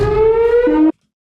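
A shark attack warning siren at a beach gives one loud, steady electronic wail that drops to a lower pitch and then cuts off abruptly into silence.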